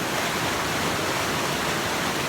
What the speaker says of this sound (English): with all this rain, it's a vicious whitewater, angry creek now